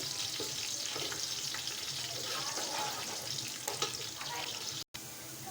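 Sliced onions and whole garam masala frying in oil in a cooking pot, giving a constant dense sizzle throughout, close and steady, with a brief dropout near the end.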